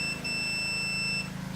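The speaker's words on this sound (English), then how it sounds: "So if this beeps, if we touch both terminals" A multimeter set to continuity gives a steady, thin electronic beep while its probes touch both terminals of a good fuse from a four-wheeler project, holding for over a second over a low background hum.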